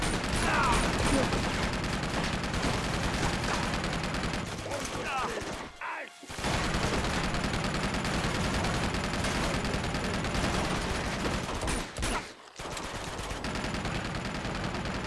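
Enemies fire on the player in the Uncharted 2 video game, and dense, continuous gunfire with rapid bursts fills the mix. It breaks off twice in short gaps and sits over game sound, with no talking.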